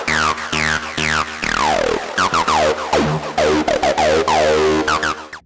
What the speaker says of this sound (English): Now for arpeggios, I'm using Pure Acid because Pure Acid is just perfect when you want to make